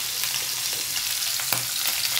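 Liver fries in a pan with a steady, bright sizzle and crackle, punctuated by a few sharper pops and stirring scrapes, close and even throughout.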